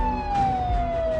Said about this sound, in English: leave the car running with the siren going